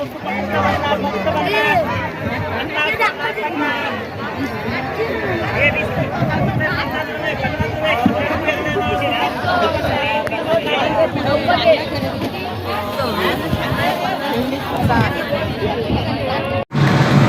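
Crowd babble fills a yearly temple fair, Shree Choundeshwari Devi jatra at Girye in 2023: a loud, continuous mass of overlapping voices and chatter close around, with movement and bustle throughout.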